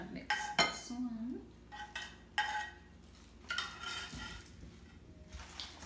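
Kimchi ingredients are mixed in a bowl, with clinks and scrapes of a utensil against the dish coming in short bursts at close range and a faint voice in the background.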